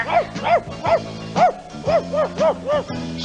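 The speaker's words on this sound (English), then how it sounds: "I want a sigh to hear a big dog bark." A big dog barks in a steady run of about eight loud, evenly spaced barks over a backdrop of sustained music.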